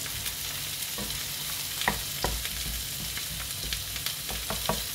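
A spoon stirs a cream and endive sauce in a pan, with a soft steady bubbling simmer under scattered light scrapes and taps, close and fairly quiet with no voices.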